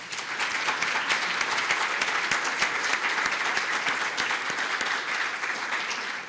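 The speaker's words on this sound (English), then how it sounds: "Let's give them a round of applause again." Sustained audience applause for guest speakers at a Fairfield County schools event, dense steady clapping from a large crowd held at an even level throughout, with no talk over it.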